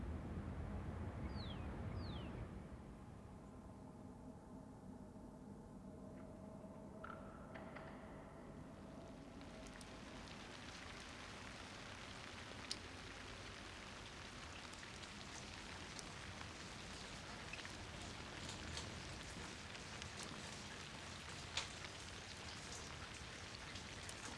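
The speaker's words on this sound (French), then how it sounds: "Seul le bruit de la pluie, qui s'écoule dans les conduites d'eau enfermées aux 4 coins du grand salon" Rain draining through enclosed water pipes in the corners of a large palace hall in Amiens, a steady soft patter and trickle with scattered drips, quiet and continuous throughout.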